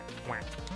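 A duck in the video game Duck Game gives a quick nasal quack, a short cartoonish squawk that bends up then down over loud game music.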